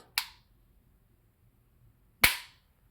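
HK USP45 Tactical pistol trigger pulled in double action, two sharp isolated clicks about two seconds apart, crisp and close in an otherwise quiet room.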